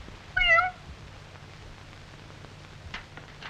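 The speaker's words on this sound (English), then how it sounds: "Well, here is Mother Cat at the kitchen door." A mother cat gives one clear, close meow near a kitchen door, followed by quiet room noise and a faint soft rustle.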